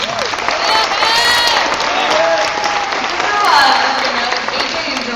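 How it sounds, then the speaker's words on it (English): Applause and cheering from a crowd at a camp closing ceremony, steady and sustained for several seconds with scattered shouts and whistles rising near the end, the audience close and loud. "Round of applause to Jordan for that awesome meeting."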